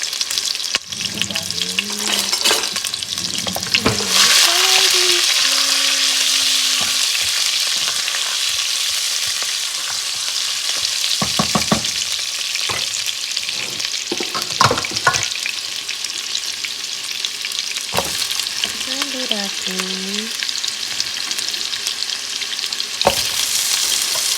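Chopped onions fry in a pan with a steady, bright sizzle, broken by several clanks of a utensil against the pan and brief stirring scrapes, with a short tonal squeak here and there.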